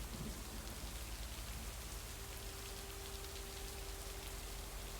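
A steady downpour with thunder in the video game Lake, a dense, unbroken hiss of rain on surfaces, deep rumbling underneath and a faint low tone running through the middle, with no talking.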